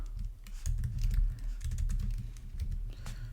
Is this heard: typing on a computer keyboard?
yes